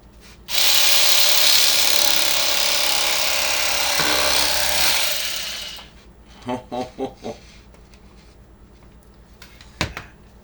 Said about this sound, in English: you can use an electric knife like this cordless one here